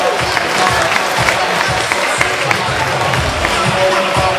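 Crowd applauding at a race award ceremony, dense steady clapping from many hands with some cheering mixed in, loud and close, lasting the whole stretch.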